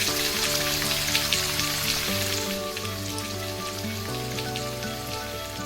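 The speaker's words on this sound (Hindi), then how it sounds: "आज पहली बारिश की दस्तक" The first rain of the season after summer falls on a village as a dense, steady hiss of drops against surfaces, with a sustained layered musical drone running beneath it throughout.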